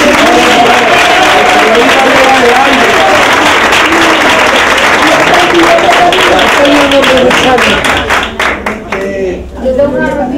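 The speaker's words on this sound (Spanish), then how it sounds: "por aplauso para nuestro radio" A loud, dense round of applause and clapping from a festive crowd at a pilgrimage celebration for the Virgen de la Cabeza, with voices calling over it. Near the end it breaks into rhythmic, spaced claps before fading under chatter.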